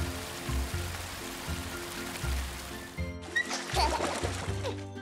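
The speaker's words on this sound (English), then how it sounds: "And pour in some water for Danny" Water is poured into a small toy basin for a baby doll, a gentle splashing trickle that brightens into a fuller pour in the second half, over faint background music.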